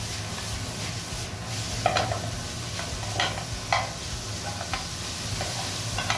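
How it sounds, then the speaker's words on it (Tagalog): Chicken breast sizzles while being sautéed in a pan, with a steady frying hiss broken by occasional scraping stirs of a utensil against the pan. "saute-saute natin"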